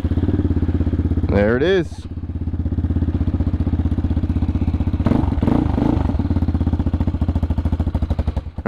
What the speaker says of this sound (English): let's get a nice little cold start on